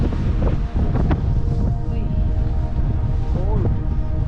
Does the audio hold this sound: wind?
yes